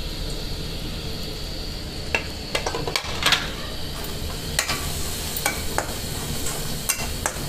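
Cumin, coriander and turmeric powder stirred in hot oil for a bottle gourd and egg curry: a soft continuous sizzle under repeated scraping clicks of a spoon against the pan, close by.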